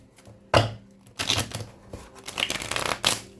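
Several bursts of riffling and slapping card sounds, like a tarot deck being shuffled, come in quick close-up flurries with short pauses between.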